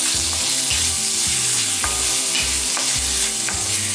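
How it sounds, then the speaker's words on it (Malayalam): Crushed shallots and ginger sautéing in a hot pan, a dense, loud sizzle with repeated scraping and stirring strokes of a spoon against the pan. "ഈ ഇഞ്ചി ഒന്ന് ചൂടായി വരുമ്പോഴേക്കും ചെറിയ ഉള്ളി ചതച്ചതും കൂടി ഇട്ട് കൊടുക്കാം. ഈ ഉള്ളിയൊക്കെ ഒന്ന് നന്നായിട്ട് വഴന്നു വരണം."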